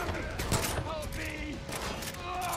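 Gunfire in Far Cry 5 crackles in a quick fusillade of sharp shots, fairly faint and brief, with talk mixed in.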